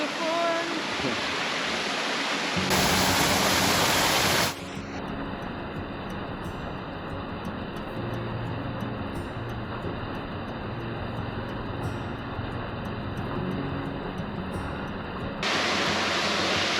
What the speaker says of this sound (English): Okay, so we got the little waterfall.